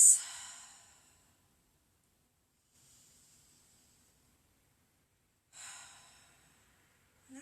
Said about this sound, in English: And take some deep breaths.